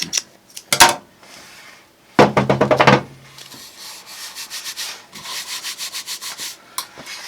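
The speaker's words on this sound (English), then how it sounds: "I just get a fingernail on the edge here and peel up the tape." Tape peeling off saw blades in a workshop, heard as a scratchy rip followed by a series of quick sticky crackling pulls and lighter rubbing sounds, close and fairly loud with no talk.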